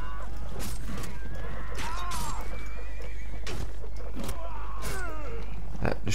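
Horses in Mount and Blade Warband whinny repeatedly amid battle noise, with sharp impacts and a constant low rumble, under occasional French speech.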